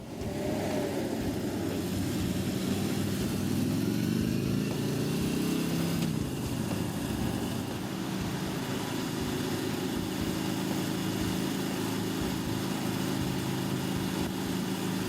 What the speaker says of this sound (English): that's a Road King with the new Milwaukee-Eight engine